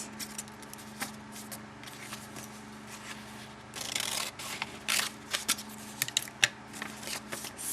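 Scissors snipping through paper to trim envelope flaps, with a run of close, crisp cuts and rustling paper handling toward the end over a low room hum.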